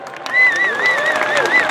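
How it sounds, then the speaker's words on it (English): Applause and crowd noise for Paralympian sprinters on the award stand at the Drake Relays 2018, a steady patter of clapping that swells briefly, with a public-address voice ringing over it. "please give these gentlemen a big round of applause"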